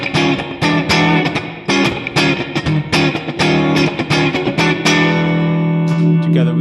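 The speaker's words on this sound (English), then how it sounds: "the nice EMT plate reverb" Electric guitar played through a Digitech RP1000 with EMT plate reverb, a series of picked notes and chords with lush, lingering reverb tails and a final sustained chord ringing out.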